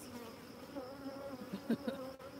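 Honey bees buzz steadily over a hive frame holding nearly capped queen cells, a dense close drone with a few louder passes near the end.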